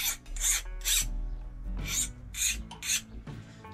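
A hand file scrapes in repeated rhythmic strokes across hardened steel on a neck knife blade, skating over the surface without biting; about six close, bright rasping passes with short gaps and no speech.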